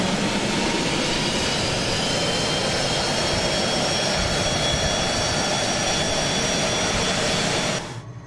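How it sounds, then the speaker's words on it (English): Twin jet engines of a Cessna Citation Mustang in Microsoft Flight Simulator hold a loud, steady whine and roar throughout after spooling up, with no talk, then cut off abruptly near the end. "Engines are up and stable."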